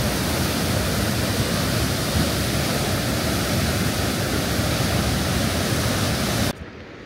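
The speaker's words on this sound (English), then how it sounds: "This water is really fast" Fast water rushes loud and steady through the deep rock of Maligne Canyon, a dense continuous roar close by that cuts off abruptly near the end.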